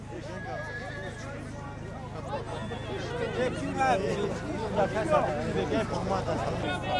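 Horses neigh and stamp during a buzkashi match, whinnies and hoofbeats rising over a murmuring crowd of spectators, with a commentator talking throughout.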